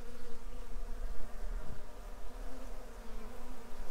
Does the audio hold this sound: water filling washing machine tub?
no